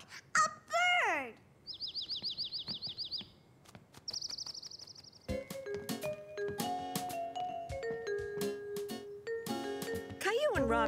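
High, rapid chirping calls repeat in quick bursts, a child imitating a bird, before music and talking take over.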